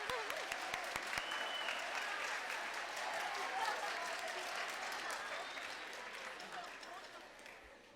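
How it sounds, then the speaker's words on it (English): Audience at a junior high winter band concert applauding the 7th grade band, a broad sustained wash of many clapping hands with scattered cheers, steady and then slowly fading toward the end. "Give them applause"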